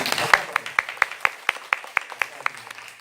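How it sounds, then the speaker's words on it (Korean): Clapping during a church sermon, heard as a sparse, regular series of distinct hand claps, about four per second, under a faint background murmur, with no large, dense ovation. "여러분도 한번 박수 좀 쳐주실까요?"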